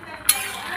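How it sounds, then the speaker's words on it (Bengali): A lid lifted off a cooking pot of ghugni, a spiced dried-pea curry, gives a single brief metallic clink, then a soft, steady background hiss. "এই যে ঢাকনাটা আমি খুলে দিলাম।"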